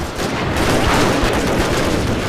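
Continuous roaring battlefield barrage of cannon and Gatling gun fire in the Total War Shogun 2 strategy game, a dense loud wall of blasts and rattling shots with no pauses.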